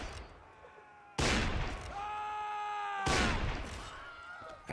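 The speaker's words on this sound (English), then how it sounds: "Out comes the pistol from Gaz." Musket, pistol and cannon fire in a Mount & Blade North & South line battle: two loud, booming blasts about two seconds apart, each ringing on over a steady background of tonal game sound.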